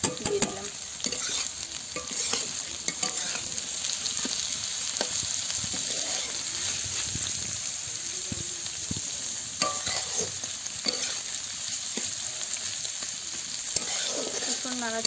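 Onions and garlic fry in a pan in a village kitchen for a bitter gourd and egg curry, a steady close sizzle broken by repeated scraping and clattering strokes of stirring throughout, with no talk.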